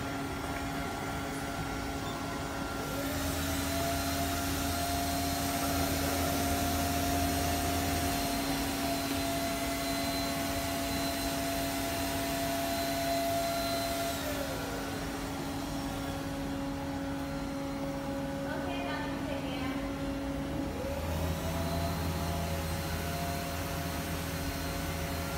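An automatic flower cotton candy machine runs its wash cycle, giving a steady, loud whooshing motor drone like a vacuum cleaner, with tonal hums that shift and step as the cycle changes over about 25 seconds.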